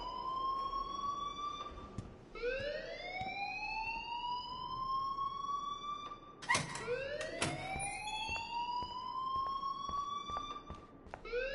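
A school alarm in the video game Life is Strange wails in repeated rising sweeps, like a siren, loud and steady for several cycles with faint clicks underneath and no talking.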